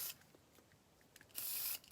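Short bursts of aerosol spray aimed into a gunked-up sewing machine, a faint hiss followed by a longer, louder spray near the end, with no talking over it.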